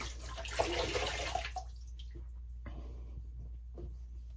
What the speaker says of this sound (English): Going to do a cold water rinse here.